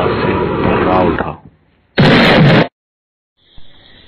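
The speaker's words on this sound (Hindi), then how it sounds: "अगले ही क्षण आसमान धमाके की तीव्र आवाज से भर्रा उठा" A voice speaks, then after a pause a single loud, short burst of broadband noise like an explosion in an animated film, followed by silence and faint rustling.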